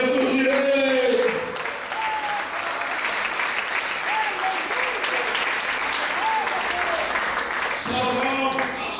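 A church congregation claps together at a sermon, sustained loud applause running throughout with a preacher's voice heard over it at the start and again near the end.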